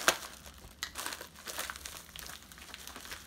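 Product packaging for a custom Jason mask is cut and pulled open, producing continuous close crinkling and tearing of plastic and paper with small snaps, fairly quiet and without talking.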